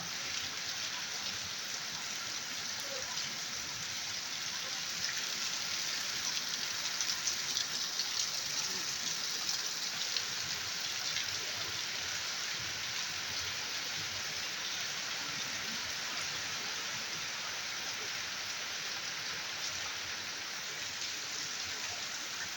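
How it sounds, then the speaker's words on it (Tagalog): Steady, heavy rain pours down in a constant dense hiss, with a broad rushing roar suggesting wind, unbroken throughout. "nilakasan na ang ulan, tapos may hangin na"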